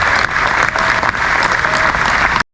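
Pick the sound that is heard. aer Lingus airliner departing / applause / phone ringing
applause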